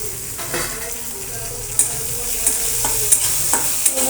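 Chopped ginger frying in a pan for soya chunk manchurian, sizzling steadily up close while a spoon stirs it, with a few sharp scrapes and taps against the pan.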